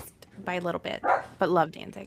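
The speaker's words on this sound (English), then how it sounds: "you will hear my dogs barking." Dogs bark in short yips at home in the background while people talk over them, the barks mixed into and between the conversation.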